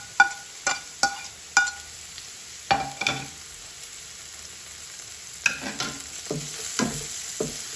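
Onion sautés in margarine in a pan for fried rice, a soft sizzle under repeated sharp metallic clinks and scrapes of a spatula, coming in uneven bursts.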